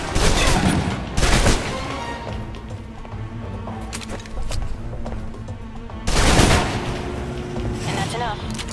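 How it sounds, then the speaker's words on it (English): SMG gunfire in Alpha Protocol: loud, rapid automatic bursts, one near the start and another past the midpoint, with scattered shots and impacts between them and someone talking over the action. "the SMGs can help clear the room quickly. Not subtle or quiet"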